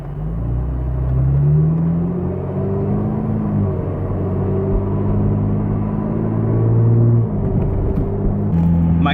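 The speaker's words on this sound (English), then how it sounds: "My car is loud as fuck right now. You guys hear this?" A loud, deep engine rumble drones continuously, swelling and dipping in pitch as the car drives, with a low throaty roar throughout.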